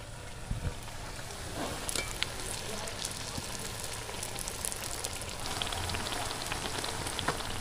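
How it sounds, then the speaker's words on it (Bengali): Potato chops deep-frying in oil give a steady, dense crackling sizzle that runs throughout at moderate level, with a few sharper pops. "এই যে আমাদের চপ ভাজা পুরোপুরি কমপ্লিট হয়ে গেছে।"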